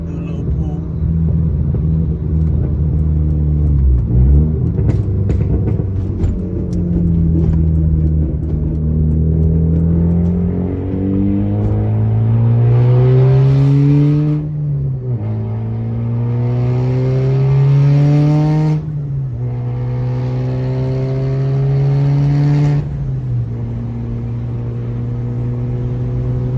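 A turbocharged car accelerates hard on a highway. The engine note climbs repeatedly through the gears with clear drops at each shift, loud and close from inside the car.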